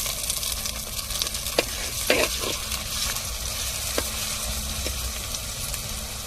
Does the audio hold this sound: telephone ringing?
no